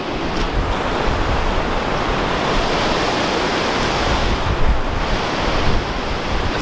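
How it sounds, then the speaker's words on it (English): Rushing water roars steadily from the top of a waterfall, a broad, unbroken wash of noise with wind buffeting the microphone. "we're at the top of the waterfall"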